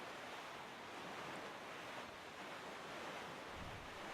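A boat sails across the open sea at night in The Legend of Zelda: Wind Waker HD, with a steady, soft wash of waves and wind that continues unbroken and without voices.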